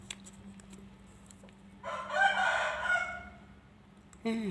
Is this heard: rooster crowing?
yes